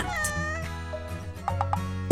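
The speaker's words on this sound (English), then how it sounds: "Cat." A cat meows among light backing music, a short tonal cry heard a few times and fairly clear over the steady musical bed.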